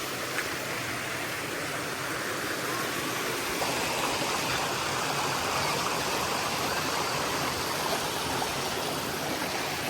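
Water rushes in a steady, loud roar from a waterfall at Kondeshwar, continuous and broadband throughout with no voices.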